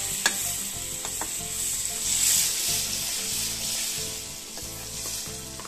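Butter with a little oil melts and sizzles in a pan over low gas for paneer butter masala. The soft, steady frying hiss is broken by a few faint stirring clicks.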